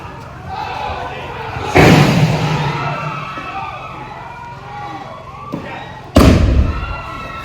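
A film set explosion during a night shoot with real fire: two sudden, loud, broadband blasts several seconds apart, each with a rumbling tail over a background of crowd noise and murmuring voices.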